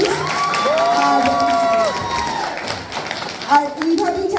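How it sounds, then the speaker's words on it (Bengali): A crowd at a children's Victory Day cultural performance claps and cheers to encourage the young performers, loud and close, with kids shouting and a sustained tone sounding over the applause before it thins out near the end. "আপনাদের আর একটু করতালি দিয়ে ওদেরকে উৎসাহ দিন প্লিজ"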